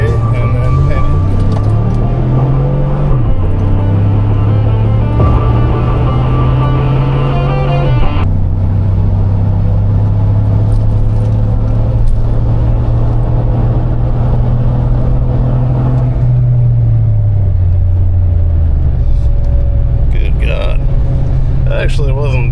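A turbocharged junkyard 5.3 truck at full throttle, engine droning loud and close as it climbs through the gears, with a shift, a long steady pull, then easing off; people talk over it.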